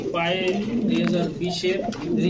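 Pigeons coo in low, throaty bursts while people talk close by, their voices mixing with the soft rolling calls.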